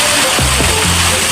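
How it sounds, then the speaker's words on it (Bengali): Heavy rain in Goa during a storm, heard from under a shop awning as a loud, continuous wash of falling water, with a faint low hum briefly rising beneath it. "দেখো কী জোরে বৃষ্টি হচ্ছে।"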